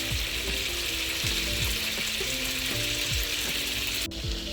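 Minced meat sizzling and frying in a pan with salt, pepper and spices over grated onion, a steady dense crackle with a few scraping stir sounds, close and continuous.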